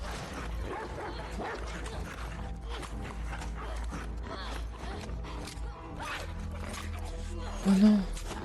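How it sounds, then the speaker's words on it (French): Dogs bark and whimper in the video game The Last of Us Part II, mixed with a dense bed of game sound effects. "Il y a des chiens!"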